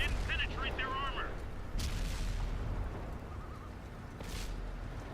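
An M46 Patton fires its cannon twice in a tank video game, each shot a sharp boom followed by a rumbling tail, after a short burst of voice-like game chatter at the start.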